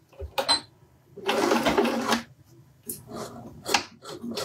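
A home sewing machine runs a seam while making a soft bag, in two bursts: a short one near the start and a longer steady run, with rhythmic mechanical clatter close by and light handling noise between.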